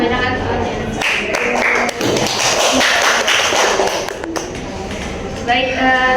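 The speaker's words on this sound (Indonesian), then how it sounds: "Beri tepuk tangan untuk teman kita yang sudah membacakan soalnya." Classroom applause for a student who read out questions, a burst of scattered clapping rising after a short pause and continuing alongside a teacher's voice.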